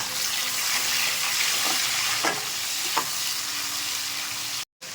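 Tomato and onion frying in hot oil with whole spices in a pan, a steady close sizzle running throughout with a couple of brief stirring scrapes, then cutting out abruptly just before the end.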